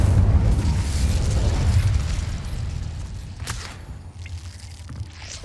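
A fire spell cast in Hogwarts Legacy, heard as a loud rushing burst with a low rumble that swells at the start and slowly tails off, followed by a few sharp crackling flares near the end.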